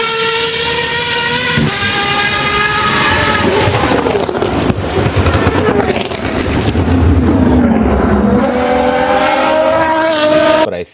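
A high-revving T50 supercar engine screams past loudly, its pitch sweeping down and climbing again through gear changes, with a whining, harmonic-rich tone.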